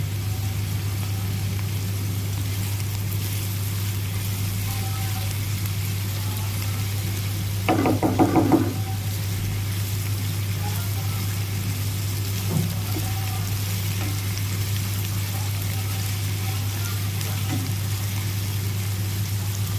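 Steady low sizzling of onions frying in a pan for egg biryani, with a brief clatter of stirring partway through and no talking.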